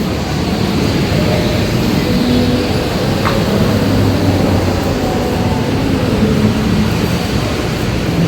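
Riding an MRT train gives a steady, loud rolling rumble and hiss that holds evenly throughout. A faint tonal whine runs along underneath, with no voices.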